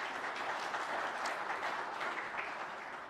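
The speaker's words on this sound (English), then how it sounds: "give her a round of applause" An audience at a hymn quiz gives a round of applause, dense steady clapping from many hands that carries on evenly and fades slightly toward the end.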